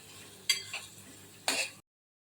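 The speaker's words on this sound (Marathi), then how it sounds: "कांदा छान आपण हलकासा असा त्याला सोनेरी रंग येईपर्यंत परतून घ्यायचा आहे" Chopped onion sautéing in a pan over a medium gas flame, heard as two short bursts of stirring and scraping against soft background frying, close by, before everything cuts to silence.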